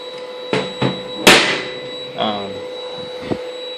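A 24-volt turbo actuator driven by a Banshee controller and fed from an AC to DC converter, giving several sharp mechanical clicks and brief motor whirs in a quiet room, each burst separated by short pauses.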